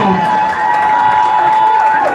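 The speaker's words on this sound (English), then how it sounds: "as we applaud the track team at this time" Crowd cheering and applauding for a high school track team at a Heritage Day event, a dense sustained roar of shouts and claps with music running underneath, steady and loud throughout.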